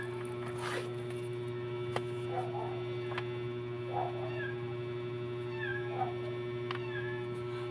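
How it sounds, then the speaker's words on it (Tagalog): Cat meowing outside a house, several short high meows spaced a second or so apart over a steady electrical hum, with a few light clicks and rustles nearby. "May pusa, tinapon yung pusa rito sa labas ng bahay namin."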